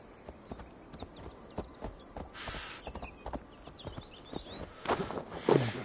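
Galloping horse in the video game Assassin's Creed Valhalla: Dawn of Ragnarok, a brisk run of hoof clops in steady rhythm, moderately loud, with faint game ambience and no talk.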